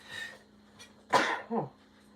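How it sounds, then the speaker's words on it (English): A single sharp sneeze bursts out close by, followed by a short throaty aftersound, with quiet room noise before it. "I gotta sneeze really bad."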